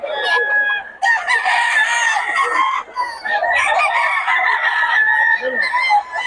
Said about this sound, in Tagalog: Pero solid ang mga manok ng Boss Tony ah